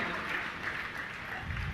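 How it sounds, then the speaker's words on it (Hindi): An audience at a spiritual question-and-answer gathering applauds steadily to welcome a family, a dense, even wash of clapping. "आप लोग एक बार जोरदार तालियों से पूरे परिवार का स्वागत"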